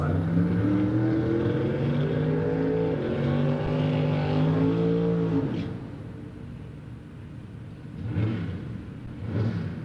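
A D-Gas class drag racing car at a Wednesday night drag event roars loudly and steadily for about five seconds as it accelerates down the strip, then drops off, followed by fainter engine surges.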